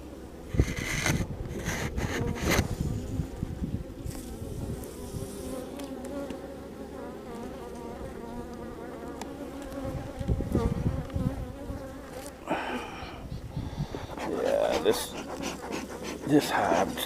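Honeybees buzz steadily around an opened hive, a dense close insect drone running throughout with occasional louder passes near the mic, while a person talks over it in places.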